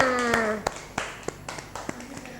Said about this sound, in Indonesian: Oke, tepuk tangan dulu untuk temannya.